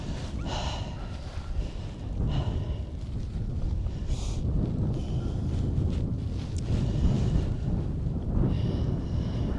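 Wind buffets the microphone on open hilltop ground at Mucklewick Hill in Shropshire, a steady low rumble with gusty surges lasting throughout, loud and close.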